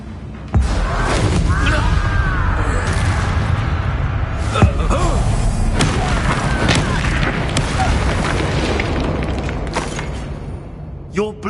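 Confringo fire spell blasting in the Hogwarts Legacy game, with booming impacts and sharp cracks amid continuous combat noise and characters talking.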